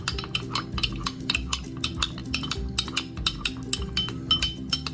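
Spoon stirring rose water into a milk dessert in a pot, a quick run of rhythmic clinks and scrapes against the metal, close and fairly soft, with no talking.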